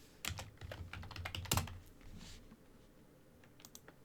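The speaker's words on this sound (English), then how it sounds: "I'm gonna type it in real quick." Quick bursts of clacking keys on a computer keyboard, close and fairly quiet, with a dense flurry early on and a few scattered taps toward the end, no talking.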